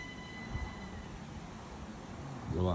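A train passes near a quiet road, producing a steady low rumble with faint rattling. The rumble swells slightly louder in the final moment.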